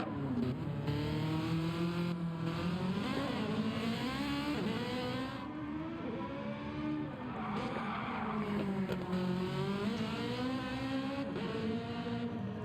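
A race car engine in Gran Turismo 7 screams steadily at high revs, pitch climbing and dropping through gear changes, with tire squeal mixed in; loud and continuous, no talking.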